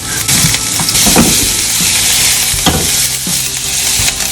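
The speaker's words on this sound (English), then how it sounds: "Add some vegetable oil in the same frying pan. Start with ginger and garlic." Steady, loud sizzling of ginger and garlic frying in hot vegetable oil in a frying pan, with occasional scrapes of a utensil stirring.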